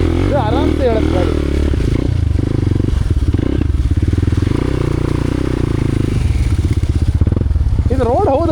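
Dirt bike engine running steadily while being ridden over rough ground, a loud continuous drone with clattering and knocks, with someone talking over it in Kannada.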